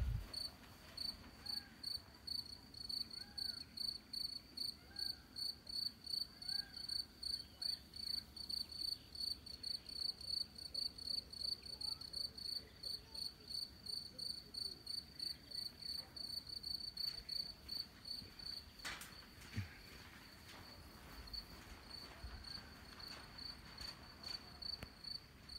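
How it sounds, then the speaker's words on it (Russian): A dense chorus of crickets chirps steadily at night in a rapid pulsing rhythm, fairly faint, with no other sounds standing out. "Сверчки поют."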